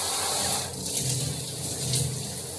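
Water runs steadily from a shower or tap while hair is being soaked before a tea tree shampoo wash, a continuous close hiss with small splashing shifts and no talk.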